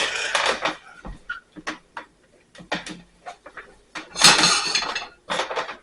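Metal pan clattering and clinking on a kitchen stove as it is set down for toasting ingredients for basil pesto, a string of sharp knocks and rattles, one louder clatter near the end.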